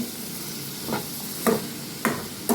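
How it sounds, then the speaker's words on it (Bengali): Salt and turmeric being stirred into an ash gourd curry with hilsa fish head, with four soft scraping strokes of a spoon against the pan over a faint steady sizzle. "প্রয়োজন মতো নুন ও হলুদ মিশিয়ে নেব।"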